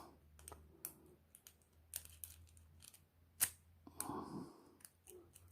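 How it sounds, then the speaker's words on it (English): Quiet clicks and scrapes of a pick working the pins of a vintage Ilco padlock, with small irregular ticks as the pins set, plus a soft handling rustle and a low background hum. "I can hear pins being set in there."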